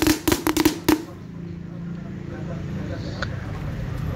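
Several firecrackers set off in a hole in the ground, a quick cluster of sharp cracking bangs close by in the first second, then a low rumbling outdoor background with a faint crackle.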